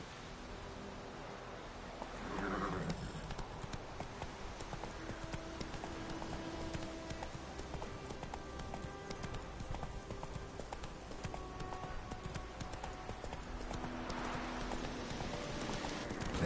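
Geralt's horse Roach from The Witcher 3 galloping, a steady rapid clip-clop of hooves running continuously over a low ambient game soundscape, with a brief whoosh near the start and another later on.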